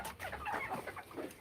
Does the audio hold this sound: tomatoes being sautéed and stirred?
no